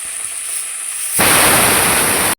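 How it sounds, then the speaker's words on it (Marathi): Paneer going into hot oil to fry until browned. After a quieter stretch a loud, hissing sizzle bursts in suddenly, holds steady and close, then cuts off abruptly. "हे पनीर मी तेलात परतून घेणार आहे"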